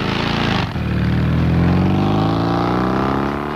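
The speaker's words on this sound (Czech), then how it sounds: "Představujeme vám nové soutěžní motocykly Java 250." Java 250 competition motorcycles from 1953, built for off-road riding, roar loudly and continuously, the engine pitch climbing as they accelerate after a brief dip, with no other sounds over them.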